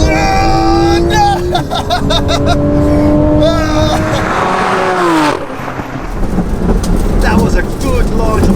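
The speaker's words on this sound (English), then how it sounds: "That was a good launch of the Porsche." A 900 hp Porsche 911 Turbo S launches in a street drag race, its engine roaring with rising and falling gear sweeps, loud and close at first, then receding into a rumbling, noisy wash.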